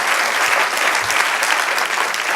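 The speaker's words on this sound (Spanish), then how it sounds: "Denle un aplauso al Señor" Steady, dense applause from a church congregation praising the Lord, loud and continuous throughout with no voices standing out.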